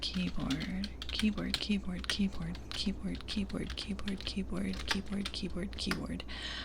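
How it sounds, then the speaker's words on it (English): Rapid clicky typing on a computer keyboard, close and crisp for ASMR, with irregular bursts of keystrokes over a low steady hum and soft whispered voice in between. "making keyboard sounds. Let me do keyboard."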